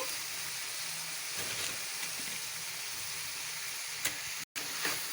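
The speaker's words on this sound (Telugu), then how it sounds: "మూత పెట్టి ఒక రెండు నిమిషాలు ఉడకనిద్దాం" Soya chunk (meal maker) curry simmering under a lid in a pan, a steady soft sizzling hiss at low level throughout, with a couple of faint clicks and one brief dropout near the end.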